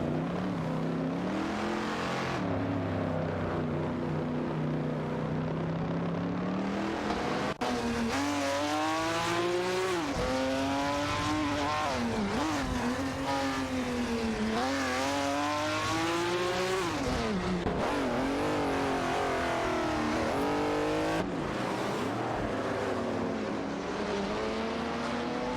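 Race cars in an AI-driven racing video game, including a Dodge Coronet Super B, roar continuously around the track with rising and falling engine pitch as they rev and shift, loud and steady throughout with no talking.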